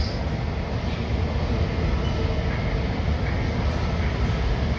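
An Air France Airbus A350 airliner taxiing, heard as a steady, loud, broadband rumble and engine roar that holds constant throughout with no voices.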